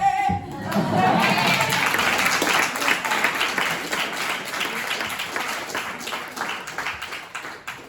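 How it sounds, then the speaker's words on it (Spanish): Audience applause after a cast and author conversation about a stage play, a dense sustained clapping from a room of people that starts abruptly, stays strong, then slowly thins toward the end. "Felicitaciones, aplausos."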